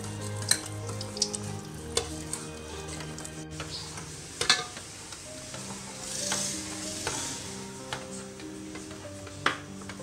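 Beef nihari stirred steadily in a pot while strained flour paste is poured in gradually, with a soft simmering sizzle and scattered spoon clicks against the pot; no one talks.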